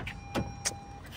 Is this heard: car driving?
yes